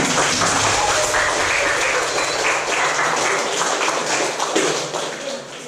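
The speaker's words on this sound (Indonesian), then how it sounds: "Oke, kita berikan tepuk tangan kepada kelompok." Classroom applause for a student group, a continuous wash of many hands clapping at close range, holding steady before tapering off near the end.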